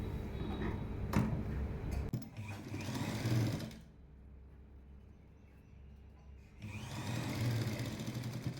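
A sewing machine stitches a lined jacket, running in steady whirring bursts separated by a quiet pause, with no one talking.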